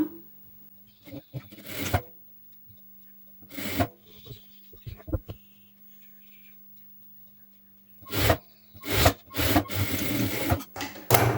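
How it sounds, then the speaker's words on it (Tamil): Sewing machine running bursts of stitches along a blouse seam during a tailoring lesson, short runs separated by pauses, with a louder sustained stretch near the end. "ஸோ இப்போ அப்படியே நம்ம தையல் போட்டுக்கலாம்"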